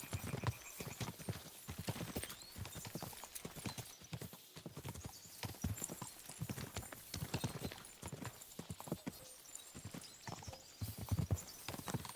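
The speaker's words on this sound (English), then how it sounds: "As soon as we cross the stream, we'll give the horses a gallop again." Horses gallop in the video game Kingdom Come: Deliverance II, a rapid, continuous clip-clop of hooves with occasional snorting, close and steady throughout without talk.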